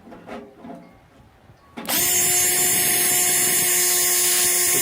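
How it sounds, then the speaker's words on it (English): A power drill whirs loud and steady after a short quiet lead-in, pre-drilling holes in the corners of thick material, the motor holding a constant high pitch. "You're going to pre-drill in the corners."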